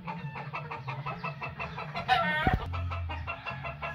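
Farmyard hens clucking in a quick, steady rhythm close by, with a rooster's brief crow cutting in midway before the clucking carries on.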